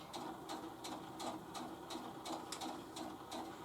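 A sewing machine top stitching a fabric cosmetic bag runs steadily, its needle tapping in a quick regular rhythm of about two strokes per second over a soft mechanical hum, close and quiet with no talk.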